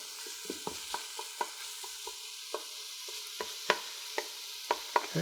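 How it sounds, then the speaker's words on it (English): A wooden spoon stirs and breaks up meat frying in a pan, with repeated soft scraping knocks over a steady sizzle, close by and with no talking. "I'm just using a wooden spoon here to break it all apart and get it all incorporated here"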